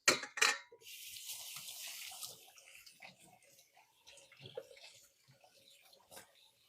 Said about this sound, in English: I'm going to give my hands a quick wash